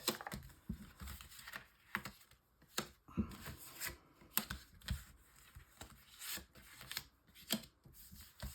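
A tarot deck is shuffled and handled for a nine-card reading, giving soft, faint papery riffles and taps that recur in an uneven rhythm close by, with no speech.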